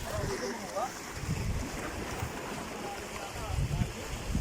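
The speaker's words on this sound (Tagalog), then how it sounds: "Lakas ng alon." Strong sea waves and gusting wind on a rocky shore under a cloudy evening sky, a loud, continuous rushing roar with low surf surges and wind buffeting the microphone.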